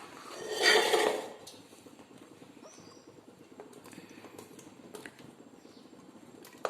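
Chopped tomatoes, about a kilo, tumble with a clatter into a metal pressure cooker in a home kitchen, one loud burst of knocks and thuds near the start, then quiet scraping and light taps.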